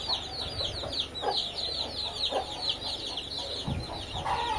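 Hens and their young chicks at a poultry farm cluck and cheep continuously, with dense high peeping from many chicks layered over lower hen clucks, close by.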